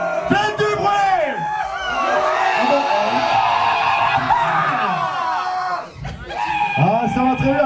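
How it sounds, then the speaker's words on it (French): Crowd at a live rock concert in a club, yelling and screaming loudly together in a continuous roar with a brief dip near the end, a voice on the microphone mixed in. "Et vous gueulez avec nous."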